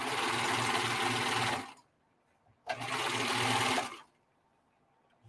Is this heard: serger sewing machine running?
yes